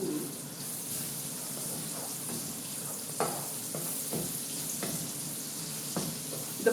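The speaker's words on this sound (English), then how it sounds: "now saute the garlic" Garlic sautés in rendered pork fat in a pan, a soft steady sizzle with occasional scrapes and taps of a utensil stirring, fairly quiet and close, with birds cooing faintly in the background.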